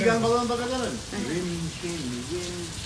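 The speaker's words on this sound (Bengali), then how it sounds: "সারাটা দিন বৃষ্টি হচ্ছে কি ঝুমুর ঝুমুর বৃষ্টি হচ্ছে" Heavy rain hisses steadily as a soft background wash beside the Hudson River, while someone talks over it throughout.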